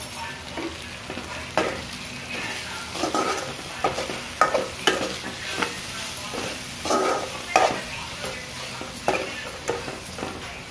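Tender tamarind leaves and raw mango cook in hot oil while being stirred, giving a steady close sizzle broken by repeated scraping stir strokes at an uneven rhythm, with no talking.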